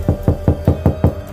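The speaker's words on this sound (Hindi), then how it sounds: "दरवाजे पे बहुत ज़ोर से खटखट की आवाज़ें आने लगी।" Loud, evenly spaced knocks on a door, six sharp raps close up in quick succession.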